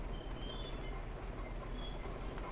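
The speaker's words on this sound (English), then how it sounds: "I love this setup, but if anyone can get rid of that squeak" A squeaky tracked vehicle in Farming Simulator 19 gives a steady, close rumbling drone with a faint high squeal running through it, heard alone with no talking.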